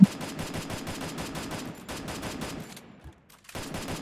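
Rapid bursts of automatic gunfire from a Free Fire battle royale match, loud and dense for nearly three seconds, a brief near-silent gap, then the shooting resumes.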